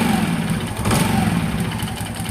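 A motorcycle engine gets a quick throttle blip, a loud close rumble that swells briefly and then settles back toward idle, with steady mechanical chatter throughout.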